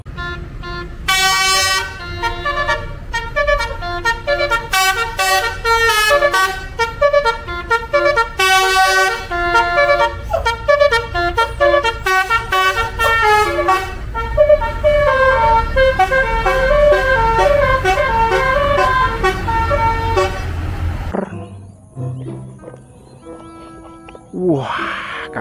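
A Kiki Tran Inspektor bus sounds a loud multi-tone musical horn, playing a long, bright melodic run of honks for about twenty seconds before it cuts off and the bus moves away.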